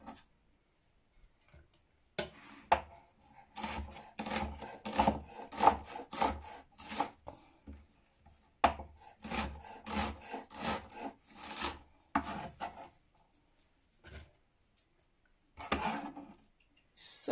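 A knife slices onions on a wooden cutting board with repeated scraping, tapping chops in uneven bursts separated by quiet pauses, close and crisp with no talking.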